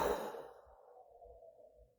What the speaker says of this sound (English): then we're going to do a cannon breath